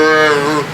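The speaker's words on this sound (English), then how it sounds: "it has the doe bleat, or even the fawn bleat, which is all the way up on the lever" Rais~A~Ruckus slide adjustable deer call set to the high fawn bleat position, giving one loud, close, nasal bleat with a slightly falling pitch that lasts just under a second, alone with no talking.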